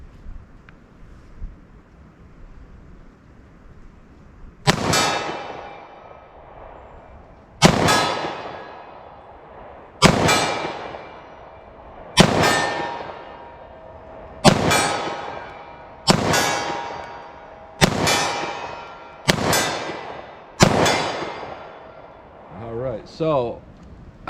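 Eight sharp .40 S&W pistol shots ring out at a steady pace, each followed by a bright metallic clang as rounds strike a steel target outdoors, with ringing decay between shots and no talking.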